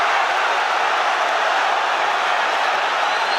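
A boxing arena crowd roars steadily through the Lomachenko–Campbell bout, a dense, continuous wash of crowd noise that swells as the exchange unfolds.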